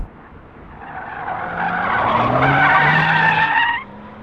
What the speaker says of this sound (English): we were drifting the all-wheel drive one on the autocross course